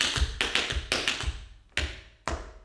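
Sharp tap-shoe heel strikes on a hard floor during a beginner blues tap routine, about seven crisp hits in an uneven rhythm with short ringing decays, close and clear with no talking.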